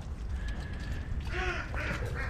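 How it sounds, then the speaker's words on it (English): A duck quacks a few times in quick succession in a coop, a short burst of nasal calls after a thin whistle, over a loud, constant rumbling background. "I got a duck making noise in here"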